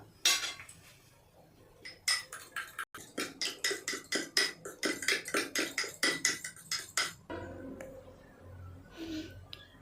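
Egg mixture with Kashmiri chilli powder whisked briskly in a bowl, a fast run of rhythmic clinking strokes against the side, close and loud, then slowing into softer scraping at the end.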